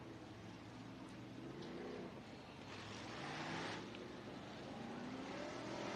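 Race cars circling a dirt oval at Abilene Speedway in Texas, a distant, continuous engine roar that rises and falls as the cars rev through the laps, with no voices over it.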